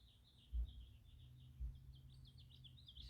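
Birds twitter outside a window, a run of faint high chirps repeating through the quiet, with a couple of soft low thumps nearby.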